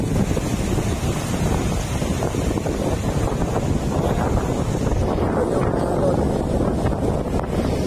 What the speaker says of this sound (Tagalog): Tapos kita nyo naman ang alon.